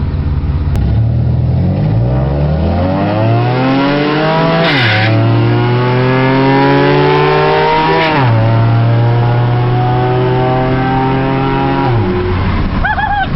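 A fourth-generation Mitsubishi Eclipse with a 3.8-liter 24-valve single overhead cam V6 pulls hard through the gears, its loud engine note climbing steadily, dropping at two shifts and rising again, heard from inside the car.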